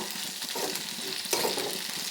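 Coriander seeds frying in hot oil for a tomato pickle give a steady close crackling sizzle, with a brief louder spattering burst partway through.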